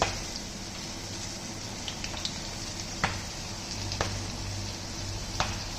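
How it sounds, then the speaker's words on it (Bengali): Chopped raw onion frying in mustard oil with a bay leaf in a pan, a steady soft sizzle with occasional sharper crackles and spatula scrapes, close and continuous. "লাল লাল করে ভেজে নেবো"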